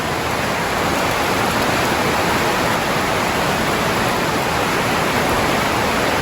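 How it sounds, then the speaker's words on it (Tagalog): Heavy rain pours steadily onto a pigeon loft, a dense, loud, unbroken hiss of drops drumming on the roof without pause. "inabutan ng malakas na ulan"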